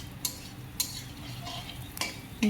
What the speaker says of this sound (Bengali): চালটা প্রায় ভাজা হয়েই আসছে। তারপর আমি মশলাটা দিয়ে দেবো।